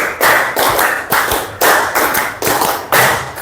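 A classroom group claps in unison, a tight burst of five quick claps repeated three times, loud and close, with brief gaps between each set.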